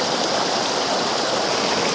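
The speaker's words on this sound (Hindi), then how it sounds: "यहाँ पे गदेरे का इतना ज़्यादा शोर सुनाई दे रहा है ना" A rushing mountain stream (gadera) pours in a dense, constant roar close by, loud and unbroken with no voices.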